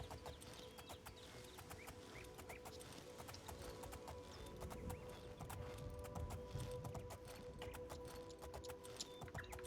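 In the game Oblivion, a horse's hooves clop steadily while it climbs a hill, a quiet, even rhythmic clatter over a low ambient bed.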